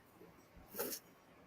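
A protective pet dog makes a short breathy whimper or snort, close and fairly quiet, with no talk over it.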